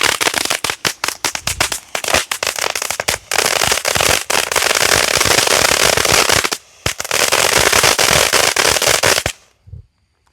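A ground bloom firework fountain throws off dense, loud crackling with rapid sharp pops for about nine seconds, a brief dip near the seven-second mark, then cuts off into quiet.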